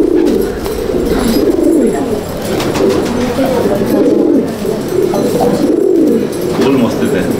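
Pigeons coo in low, rolling, repeated phrases inside a pigeon loft, several birds overlapping continuously and close by, with people talking underneath.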